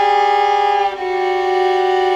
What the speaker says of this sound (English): They sounded a little bit more like this, with a little buzz, and if it's really out of tune, it sounds something like this.